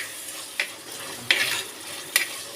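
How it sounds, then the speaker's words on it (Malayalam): Green chilies sauté in hot oil in a pan for fish curry, a soft continuous sizzle broken by three sharp stirring scrapes spaced about a second apart. "പച്ചമുളകും കൂടി ഇതിനകത്ത് കിടന്ന് നല്ലതായിട്ട് വഴന്ന് വരണം."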